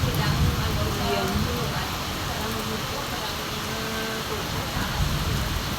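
Heavy rain pours down steadily as a dense, continuous hiss that fills the whole stretch without pause, close and loud.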